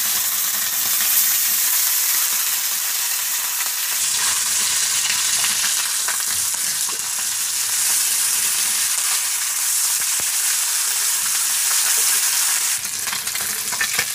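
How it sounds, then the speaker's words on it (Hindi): Paniakhia fish fry in hot oil with a dense, loud, continuous sizzle that holds steady throughout, close to the pan with no voices. "तेल गर्म हो चुका है। अब मछलियों को डालेंगे"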